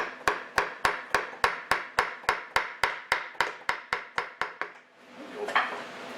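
A hammer taps a polishing wheel on a Diamond Pacific Titan gem maker, about seventeen sharp, evenly spaced metallic knocks, loud and close, followed by a brief soft scraping rustle.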